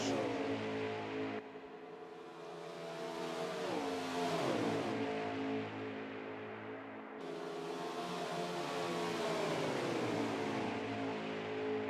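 A pack of stock cars drafting around Talladega Super Speedway in a racing video game, engines droning steadily with rising and falling pitch sweeps as cars pass, loud and continuous with no talk.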